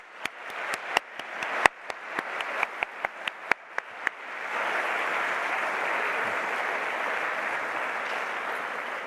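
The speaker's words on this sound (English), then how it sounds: "So please, let's give faculty and staff a huge applause." Graduation audience applauding faculty and staff at a master's ceremony, beginning with scattered sharp individual claps that swell into a broad, steady wash of applause from a large crowd.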